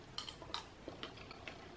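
A spoon scoops the flesh of a regular dragon fruit in a few light, quiet clinks and scrapes spaced irregularly, close up with no talking.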